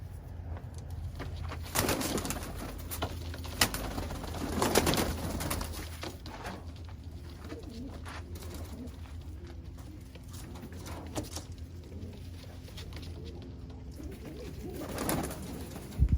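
A powerful racing pigeon coos softly and at intervals against a low steady background hum, with scattered light shuffling and tapping noises and a few louder bursts.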